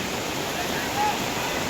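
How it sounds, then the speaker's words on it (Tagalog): Constant roaring rush of a flooded, overflowing river pouring past a broken bridge, a dense unbroken wash of water noise close by. "Kaya sobrang lakas ng daloy ng tubig."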